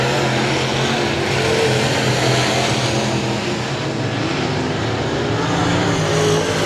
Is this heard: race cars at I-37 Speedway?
yes